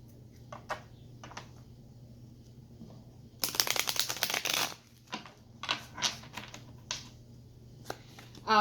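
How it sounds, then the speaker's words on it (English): A burst of riffling cards, a quick shuffle lasting about a second, followed by several soft taps and slides of cards in a quiet room. "You want me to shuffle?"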